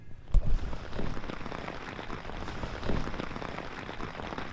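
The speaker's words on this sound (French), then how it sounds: "Il pleut" Steady soft patter of rain falling on a surface in the Alps on the GR5 trail, with a brief knock near the start.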